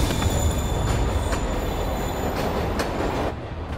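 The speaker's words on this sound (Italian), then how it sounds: "Il treno si muove, lì sta scappando!" A moving train in a Spider-Man video game rumbles steadily with loud, dense rail noise, rhythmic clacks and faint high wheel squeal, easing slightly at the end.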